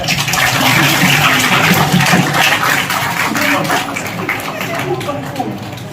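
An audience claps for students at a school prize ceremony, a dense continuous patter of many hands filling the room at close range, with voices talking over it.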